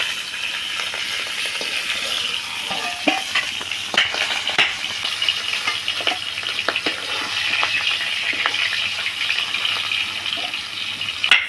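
Eggplant fries in hot oil with a steady crackling sizzle, punctuated by occasional clinks and stirs, no voices present.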